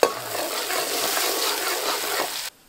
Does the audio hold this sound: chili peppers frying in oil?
yes